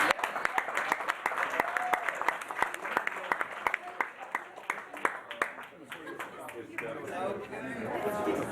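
Audience applause at a rehearsal dinner, a dense run of clapping that stays steady and close for the whole stretch, with crowd chatter mixed underneath.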